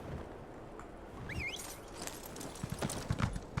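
Horse hooves clip-clop in the Elder Scrolls video game, faint at first then growing into a quick run of close hoofbeats, with a short whinny-like chirp partway through.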